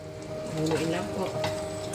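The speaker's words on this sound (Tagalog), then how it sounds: "Haluin lang po." Spicy adobo chicken feet with garlic and spring onion being stirred in a hot pan, a steady close sizzle with soft scraping strokes throughout, no talking.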